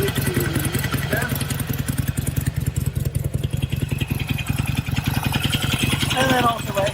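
An engine with a dry sump oil system idles steadily after an oil change, a close, even, rapid thrumming pulse with mechanical clatter that runs throughout while someone speaks over it.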